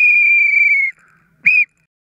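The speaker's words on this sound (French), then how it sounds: "je vais devoir siffler la fin" A referee's whistle blows to end a match, first one long shrill blast and then a short second toot after a brief pause. It sounds loud and close, with no voices.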